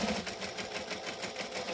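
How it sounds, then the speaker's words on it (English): A sewing machine runs steadily as it stitches along the edge of fabric, a quiet, even mechanical whir with fast regular pulsing and no pauses, nothing else audible. "we're going to continue stitching up the edge"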